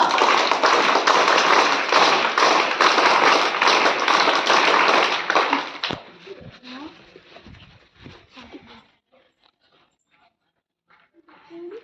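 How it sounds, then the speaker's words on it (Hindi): Audience at a school Teachers' Day event clapping loudly and densely for about six seconds, then thinning to scattered claps and fading into near silence with faint shuffling sounds. "ताली बजा।"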